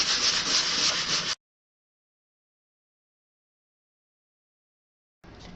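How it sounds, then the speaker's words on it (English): A sanding block with sandpaper scuffing the painted surface of a matchbox, a dense steady rubbing rasp for about a second before cutting to silence, then resuming briefly near the end. "So this is just a sanding block, and I'm just going to scuff it up a little bit"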